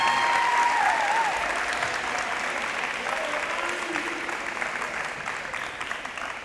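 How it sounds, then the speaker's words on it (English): Sustained applause from an audience at a high school ceremony for two track and field athletes signing letters of intent, steady dense clapping that slowly thins and fades, with a brief whistle at the start. "One more round of applause."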